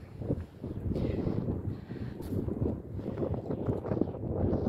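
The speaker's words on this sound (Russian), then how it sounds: "Ветер. Видите, какой сильный ветер?" Strong wind buffets the microphone in a steady, loud roar with gusting surges throughout, no voices heard.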